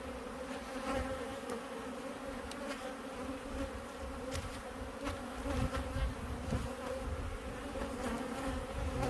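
A dense, loud hum of many Carniolan honeybees, workers and drones, buzzing all around an open hive, steady and close, with individual bees droning past.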